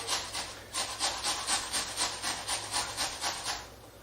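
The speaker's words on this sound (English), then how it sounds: "So our onion the same way, just basically through that grater." An onion being grated by hand against a grater for potato pancakes gives a steady run of rhythmic rasping strokes, about a dozen close, even scrapes, with no talking.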